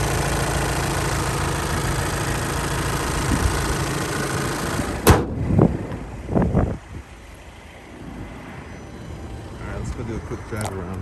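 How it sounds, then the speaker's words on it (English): A 2013 Volkswagen Passat TDI diesel engine idling with a steady dense clatter for about five seconds, then quieter engine hum as a person talks nearby with a few brief knocks. "Noisy diesel motor."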